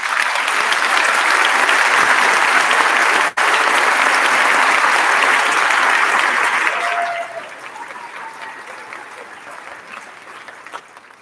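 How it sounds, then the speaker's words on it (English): Audience applause at a school band directors' festival concert, a dense loud roar of clapping for about seven seconds that drops abruptly to a quieter scattering of claps and room noise. "Let's give them a round of applause."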